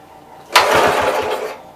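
A Wisconsin engine on a Master vibrator generator, fed only carb cleaner because of a fuel problem, coughs to life in a brief sputtering burst with a few rapid chugs before fading, close by.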